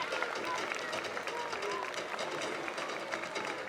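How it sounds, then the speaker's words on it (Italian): Spectators at an open-day fire brigade demonstration by the volunteer firefighters of Mirano, Venice, applauding steadily, a sustained wash of clapping heard from a distance and fairly quiet throughout. "Facciamogli un bel applauso, grazie"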